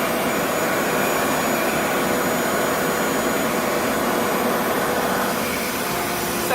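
A Revair reverse-air hair dryer running on curly hair, a loud, steady, close whooshing roar like a vacuum, unbroken throughout with no speech.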